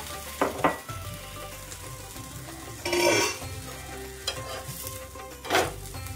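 A cheese grill sandwich sizzles softly on a grill over low gas, a steady frying hiss broken by a few louder scraping and clattering touches of a utensil against the pan, with no talking.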